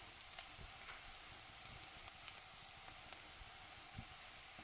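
Garlic and fenugreek seeds frying in hot oil, a steady faint sizzle and crackle with occasional small pops, no talking.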